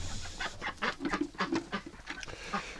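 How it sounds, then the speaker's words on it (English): Wintering ducks in a coop give soft, quiet clucking quacks and chatter in short, irregular bursts, close by but faint. "Oh, we got a bunch of ducks in here."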